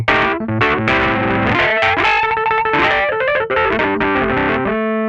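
A Crumar Seven keyboard played through an amplifier with heavy, aggressive drive gives sustained, buzzing, heavily distorted chords and melodic lines that ring loud and up close, with no voice.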